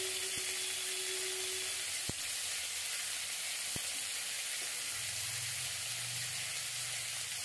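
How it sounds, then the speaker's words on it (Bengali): Tomatoes fry with salt and turmeric for tomato chutney, a quiet, even hiss of sizzling broken by a couple of sharp clicks and a low rumble near the end, with no voices. "নুন, হলুদ, টমেটো সঙ্গে ভালো করে ভেজে নিচ্ছি।"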